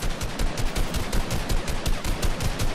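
Rapid automatic gunfire in Fortnite, a fast, even rhythm of loud, close shots running through the whole stretch with no pauses and no voices.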